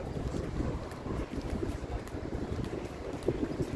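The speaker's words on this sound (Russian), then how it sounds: "Ой, как дует так." Strong wind gusting across a free public beach in Abu Dhabi, a steady close roar of buffeting microphone wind noise lasting throughout with no talk.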